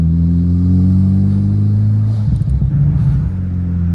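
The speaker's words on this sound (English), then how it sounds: "Driving better, definitely accelerating a little smoother." Engine of a turbocharged Honda car rumbles loudly and steadily as it accelerates, a deep close drone that roughens briefly near the end.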